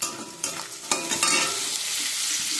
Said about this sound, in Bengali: এবার আমি কুচনো বেগুনগুলো দিয়ে ভেজে নেব।